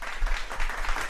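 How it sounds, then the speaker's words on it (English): Brief burst of audience applause at a live late-night comedy talk show, a dense, steady patter of many hands at moderate volume with no pauses. "Give a round of applause for Chris."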